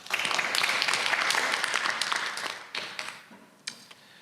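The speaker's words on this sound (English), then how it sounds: "Let's give Donald another round of applause." An audience at a software engineering conference session claps after a talk, a burst of scattered hand claps that thins out and fades into a few last isolated claps.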